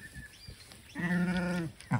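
A ewe sheep on a small farm gives one loud, close bleat about a second long, preceded by quieter farmyard rustling and followed by the start of another call.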